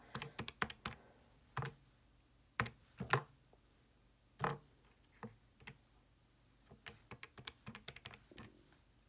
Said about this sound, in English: And I'm just typing in my numbers